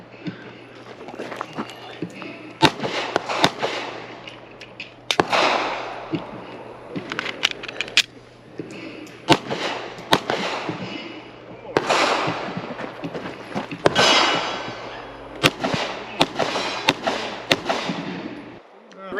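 Handgun shots crack out at a shooting competition stage with a compact G26 or P365XL, sharp single reports in irregular clusters over about nineteen seconds, mixed with footsteps, movement and people talking.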